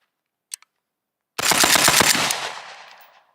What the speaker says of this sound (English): That sounded like full auto.